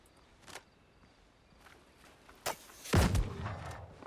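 A gunshot in the video game Archipelago, one loud booming report with a rumbling tail after a couple of faint earlier clicks and thuds.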